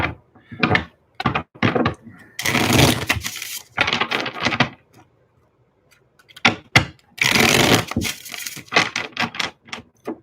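Cards are riffle-shuffled up close in several quick bursts, separated by short pauses and one longer silence.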